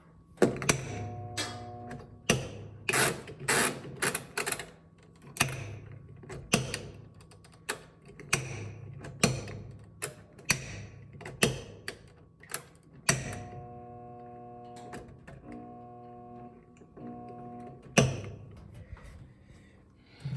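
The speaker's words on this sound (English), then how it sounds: "The motor's stalling." A stalling 2007 Frigidaire washing machine motor gives repeated creaking, clunking mechanical strains in uneven bursts with short droning hums between them, close and fairly loud, with no talking.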